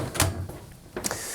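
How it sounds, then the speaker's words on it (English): A Smeg dishwasher's bottom basket being pushed back into place, giving two short clattering knocks of metal wire and plastic rollers about a second apart, close and fairly loud with quiet rustling between. "I can replace the bottom basket"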